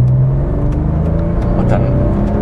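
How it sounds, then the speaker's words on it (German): A 1999 Porsche 911 Carrera 4 Cabriolet 996 accelerates hard in second gear from about 1500 rpm, with a steady, loud engine drone heard from inside the car. "wir sind jetzt im zweiten Gang, haben so 1500 Touren und dann drücke ich mal drauf"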